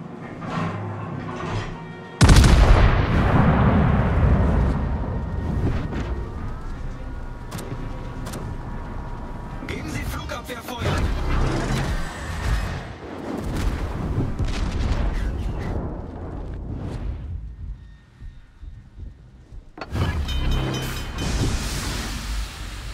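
Heavy naval gunfire from a Michelangelo-class warship in World of Warships, with loud booming salvos and explosions that roll and rumble across the clip. Several separate blasts stand out, and a brief quiet gap comes before a final burst.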